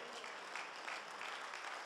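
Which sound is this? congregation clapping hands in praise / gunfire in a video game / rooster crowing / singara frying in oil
congregation clapping hands in praise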